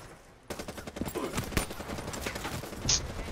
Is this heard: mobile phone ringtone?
no